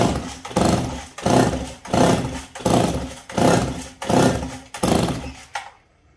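A 49cc two-stroke race chainsaw is cranked by its pull-starter with the throttle locked open, giving about seven loud, evenly spaced rasping pulls, each swelling and then cut off, before the sound stops.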